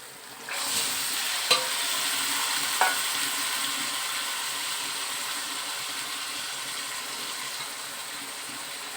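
Mutton pieces frying in a pan with onion and garlic, a loud, dense, continuous sizzle heard up close after a sudden start, broken by a couple of sharp utensil clinks early on.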